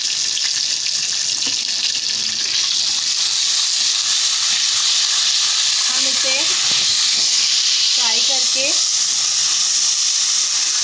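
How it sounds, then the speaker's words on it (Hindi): Red chillies and nihari masala frying in hot oil for a beef nihari tempering, a loud, continuous hiss and sizzle close up, with a few brief voice-like sounds faintly over it. "हमें इसमें मिर्चें डाल के फ्राई करनी है।"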